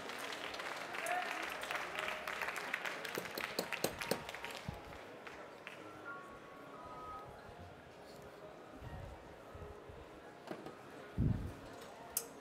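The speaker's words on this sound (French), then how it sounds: "Allez, on applaudit bien fort" Audience applause at a French barista championship, a burst of scattered claps in the first few seconds that thins out, fairly distant, followed by quieter room noise and a few thumps.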